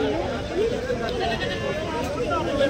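Goats bleat amid the bustle of the Kadiri goat market, a couple of wavering calls close by under ongoing chatter and people talking.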